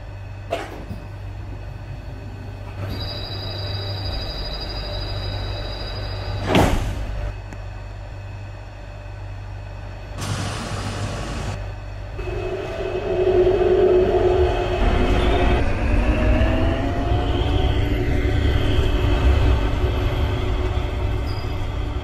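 A Mitsubishi Crystal Mover airport transit train pulls out of a station, with door chimes and a rising motor hum that builds steadily as it gathers speed, heard from inside the car.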